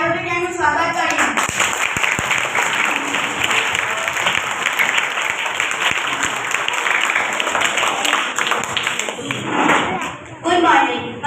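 An audience claps continuously to welcome performers onto the stage at a Gujarati Mother Language Day comedy play, the applause dense and close for about ten seconds before briefly fading and swelling again.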